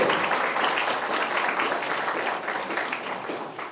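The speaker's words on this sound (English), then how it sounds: "you all deserve a big round of applause" Crowd applause at a high school ribbon cutting ceremony, a dense continuous wash of many hands clapping, loud and sustained throughout, gradually fading toward the end.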